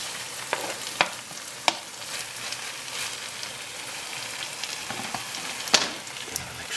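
Chopped pak choy sizzles and fries steadily in a hot pan for a Nepalese Gurkha curry, with occasional sharp clicks and scrapes of stirring over the continuous crackle.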